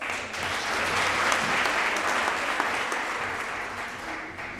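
A hall audience at a municipal small-business roadshow keeps up a continuous round of applause, a thick even wash of many hands clapping that swells slightly and then tapers toward the end.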